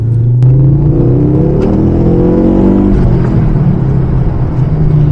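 A Ford Focus RS500 engine revs loudly and accelerates, a deep sustained roar with rising harmonic tones, close and continuous throughout.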